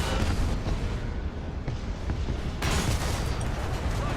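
Cannon fire from a 188-ton Maus heavy tank in the War Thunder video game: loud, heavy booms with a dense rumble that fills the whole stretch, and sharper blasts standing out near the start, middle and later on.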